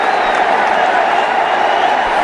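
A steady, dense roar of applause and cheering from a large cricket crowd in Kanpur at a one-day international, sustained and fairly loud throughout with no clear individual voices.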